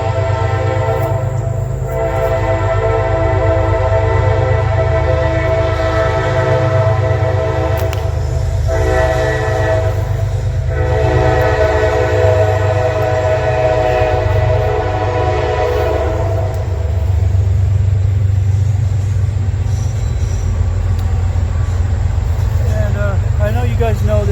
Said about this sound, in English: that train goes by all the time